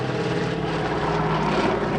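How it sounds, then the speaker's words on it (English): B-17 Flying Fortress heavy bomber with four 1,200-horsepower radial engines passing overhead at an airshow, a steady, loud propeller drone with layered engine harmonics throughout. "The Flying Fortress, flying over now, dropping bombs."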